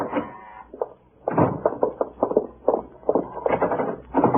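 Knuckles rap on a door in a 1950 radio crime drama, with several rapid clusters of close, sharp knocks after a brief pause.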